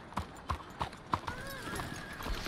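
Horse hooves clip-clopping in the Red Dead roleplay game, four evenly spaced hoofbeats up front followed by a softer, blurred stretch with a faint tonal swell and low talk underneath.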